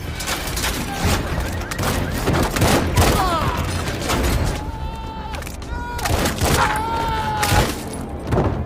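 A film shootout fills the soundtrack with loud bursts of gunfire and booming shots, mixed with dramatic music and brief shouted voices.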